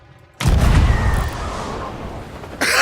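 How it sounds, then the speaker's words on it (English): A cannon in the pirate game Sea of Thieves fires a player out with a sudden loud boom that trails into a long rumbling, rushing decay, followed by a fresh burst of noise near the end. "And then we're going to fire ourselves out of a cannon."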